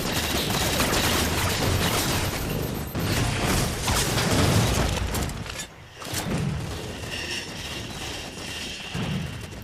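Dense, rapid gunfire and explosive thuds from hip-firing a weapon in the video game Halo 4, loud and nearly continuous with a short pause midway.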